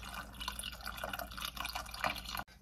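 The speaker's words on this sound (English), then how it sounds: "you can pour off your milk and yogurt mixture into your quarts" Milk and yogurt mixture is poured into quart jars for homemade yogurt, a steady close trickle and splash of liquid that runs continuously for a couple of seconds.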